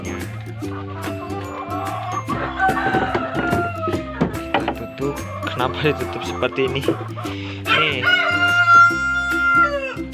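Free-range village chickens, a pair from one coop, cluck busily and a rooster crows loudly nearby as the birds fight, while someone talks over them.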